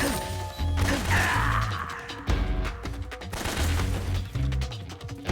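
Gunfire striking the player in Metal Gear Solid 3: Snake Eater on Easy difficulty, dense rapid shots and impact crashes layered over game music, loud and near.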